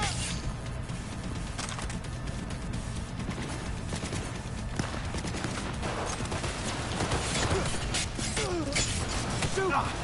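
Rapid gunfire in the video game Cyberpunk 2077, with dense, sustained bursts of shots and mechanical clatter over a busy background.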